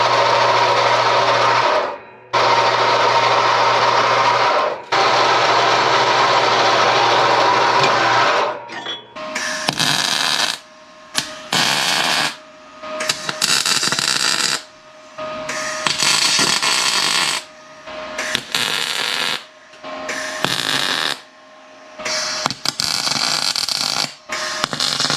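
Metal pieces are cut and then tack welded while building a brake press from scrap metal. A loud, steady buzzing cut gives way to a run of short, harsh welding bursts broken by brief silences, all close up and with no talking.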